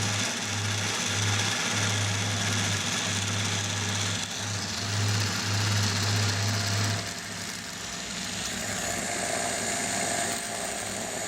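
Lister overhead shearing gear starts up and runs steadily, a continuous mechanical hum with a pulsing low drone and a bright high whir, sustained for several seconds at moderate level with no talking.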